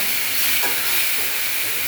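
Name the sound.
potatoes frying in oil with spices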